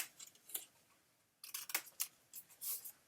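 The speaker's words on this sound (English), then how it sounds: "I'm going to cut out that little corner, or the little square." Paper scissors snip a small corner square from paper for a mini scrapbook album, a few quiet close crisp cuts in short bursts with small pauses.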